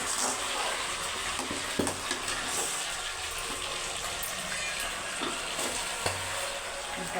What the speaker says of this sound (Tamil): மசாலா பொடி வாடை போக வரைக்கும் பச்சை வாட போக வரைக்கும் நல்லா வதங்கட்டும்